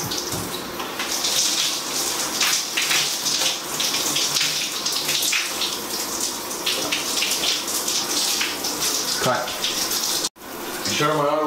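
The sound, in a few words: shower water running while washing hair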